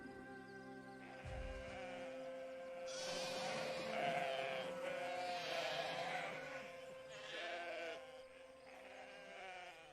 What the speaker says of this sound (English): And when I say sheep barn, I mean a real sheep barn.